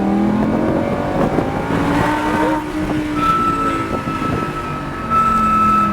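A GT4 race car accelerates on the Sonoma track, its engine note climbing loud and close in rising sweeps, briefly dipping at a gear change before pulling upward again.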